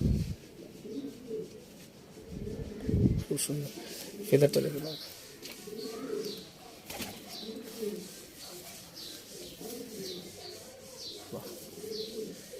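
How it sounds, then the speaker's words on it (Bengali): Domestic pigeons, a male and female pair kept by fanciers, coo softly in the background while someone speaks over them almost throughout, with a few faint chirps and a brief flutter of wings. "সুন্দর পায়রা"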